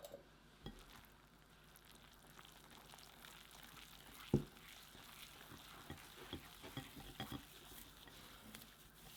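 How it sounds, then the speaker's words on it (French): Liquids for seitan being stirred in a measuring jug, faint soft swishing and light clinks with an occasional sharper knock, quiet and without talk. "on mélange les liquides dans le verre doseur"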